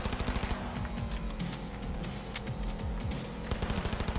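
Rapid automatic gunfire in the open-world shooter Cyberpunk 2077, with steady repeated shots rattling on continuously at close range throughout a short stretch over dense game background noise.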